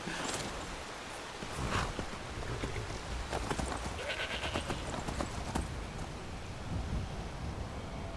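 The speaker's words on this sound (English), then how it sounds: "The horses are scared. Look at them." Frightened horses in the game Skyrim, a low rumbling storm-like bed with scattered hoof clatter and sharp stamps, fairly quiet and continuous with no talking.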